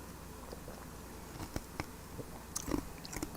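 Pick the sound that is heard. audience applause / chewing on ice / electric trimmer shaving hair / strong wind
chewing on ice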